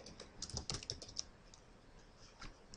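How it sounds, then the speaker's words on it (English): Quick bursts of computer keyboard keystrokes as a company name is typed into a text box in an Excel 2010 spreadsheet, a cluster of clicks followed by a few sparse taps, close and fairly quiet with no talking. "I'm going to type in the title of my company"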